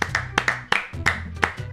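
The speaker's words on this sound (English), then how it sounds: "Round of applause for Anthony." A small group of people gives a round of applause after a game of Quiplash 2, sparse uneven claps in a quick run of separate sharp hits, close and loud, with no talking.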